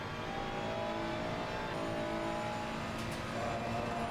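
Race car engine in Assetto Corsa Competizione revving up and accelerating out of a corner, a steady droning roar with tyre and road noise throughout, fairly loud and continuous, no talking.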